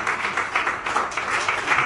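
Audience applause greets an invited peace ambassador at a formal ceremony, steady dense clapping from a crowd filling the whole short moment at moderate loudness.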